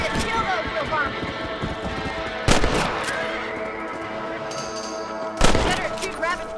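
Gunshots ring out while rabbits are hunted in Red Dead Redemption, two sharp loud cracks a few seconds apart over a continuous game soundscape, with horse sounds and spoken dialogue.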